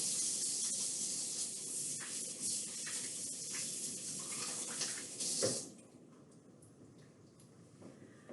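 Water from a sink tap runs steadily as hands are washed beneath it, a close, continuous hiss and splash that stops abruptly near the end, leaving a quiet room.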